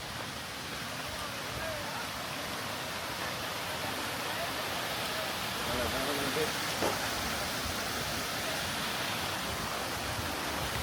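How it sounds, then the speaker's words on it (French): A mountain river flows steadily, a broad continuous rushing wash of water that stays even and fairly close throughout with no breaks. "Le bruit de la rivière."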